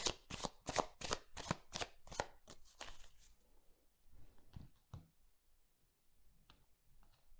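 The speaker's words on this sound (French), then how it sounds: "on coupe et je vais vous choisir, je vais tirer 5 cartes pour le message de votre autre" A deck of tarot cards being shuffled and cut: a rapid run of crisp riffling bursts for about three seconds, then sparser soft taps and slides of the cards, close and quiet, with no talk.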